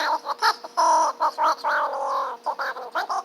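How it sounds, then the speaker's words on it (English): A voice run through a pitch effect chirps and squawks like a parakeet, in short bursts of high, bird-like warbling. "you can make your voice sound like a parakeet if you wanted to"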